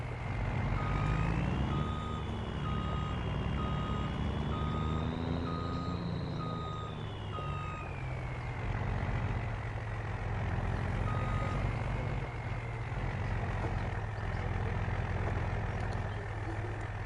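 A heavy truck engine in Farming Simulator 25 rumbles steadily while a reversing beeper sounds in an even, repeating pattern, loud and close, with a rising and falling engine whine.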